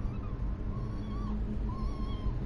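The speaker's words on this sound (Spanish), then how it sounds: "Voy a sacar a estos gatitos de aquí porque se la van a pasar." Kittens meowing indoors in a quiet room, several thin, wavering cries spread across a couple of seconds over a low steady background hum.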